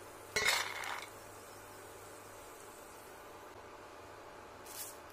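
Fried poha namkeen scooped from a pan onto a plate gives one brief metallic scrape and clink of the spoon, followed by quiet, with a faint second clink near the end.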